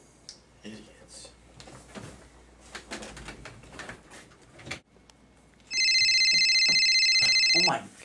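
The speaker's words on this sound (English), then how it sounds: "this phone never stops ringing" A telephone rings loudly in a continuous electronic trill near the end, after some faint indoor movement and bird sounds.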